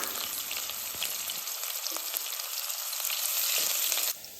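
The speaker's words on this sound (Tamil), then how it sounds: "கடுகு நல்லா பொரிஞ்சதுக்கப்புறம் வெங்காயம் ஆட் பண்ணிக்கலாம்" Onions fry in hot oil with popping mustard seeds, cooking for a raw banana pepper fry. A dense, steady sizzle sits close and fills the whole stretch with no voices over it.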